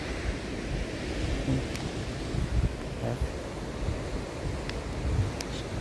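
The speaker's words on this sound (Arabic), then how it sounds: "جيت البحر وقلت نصور" Sea waves wash steadily at the shore, a continuous broadband surf roar with gusts of wind buffeting the microphone and no voices.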